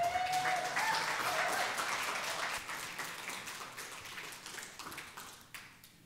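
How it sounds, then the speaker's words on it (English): An audience at a tech talk on Redis and Hydra microservices gives a round of applause, starting loud and dense with a few cheers, then thinning and fading steadily toward the end. "So let's give a round of applause to Eric."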